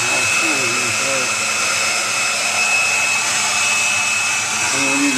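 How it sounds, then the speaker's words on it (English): A hair dryer runs steadily on a Kenmore refrigerator to dry out water pooled at the bottom, a loud continuous whir without pause. Faint voices or other sounds flicker briefly beneath it. "Now that dryer has been going for about 5 minutes, I guess."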